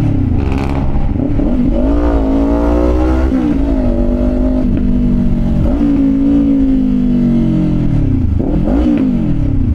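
A Kawasaki Ninja 500 SE motorcycle with an SC-Project aftermarket exhaust revs up and down several times, roaring throatily and close by, with no talking.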